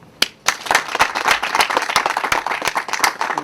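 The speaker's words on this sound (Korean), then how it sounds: "박수." Soldiers at a coastal guard post clap together at the end of a briefing, a burst of sharp, uneven hand claps that starts abruptly and continues steadily and close by, with no voices over it.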